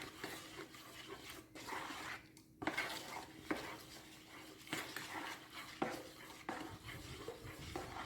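A slotted spoon stirs wet, gelatinous pottery glaze in a container, with soft scraping and sloshing and occasional sharp clinks against the vessel's side, heard fairly close and steady, with no talking.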